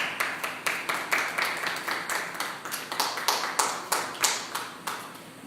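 A church congregation claps along in a fast, steady rhythm, sharp hand claps repeating several times a second, fairly close and without talk.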